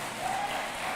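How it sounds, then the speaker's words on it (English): An audience at a political pre-budget consultation meeting claps steadily with dense, even applause that comes from a moderate distance. "I want you to welcome with a big round of applause."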